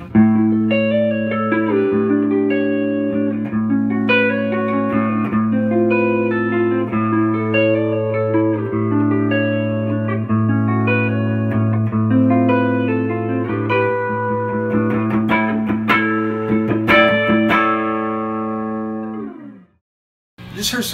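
A 1980 Cadi flame-top electric guitar played clean through the neck pickup gives a warm, sustained chordal tone with ringing notes, alone and close, before a short pause and a final strum.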